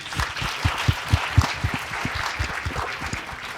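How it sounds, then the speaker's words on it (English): An audience at a live film-score masterclass claps, with distinct, fairly close hand claps in an uneven rhythm that thin out toward the end. "Round of applause, please."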